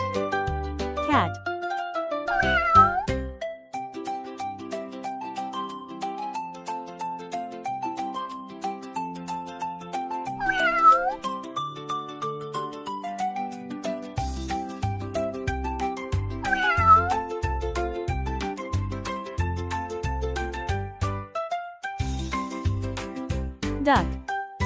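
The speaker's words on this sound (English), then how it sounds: "Cat." A cat meows several times, with rising and falling calls spread across the stretch, set against calm background music with sustained notes.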